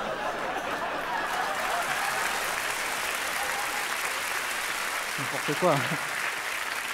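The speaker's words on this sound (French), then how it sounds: "Ils sont contents, ils applaudissent," A studio audience on a French talk show applauds in a steady, dense wash of clapping that lasts throughout, with someone briefly speaking over it near the end.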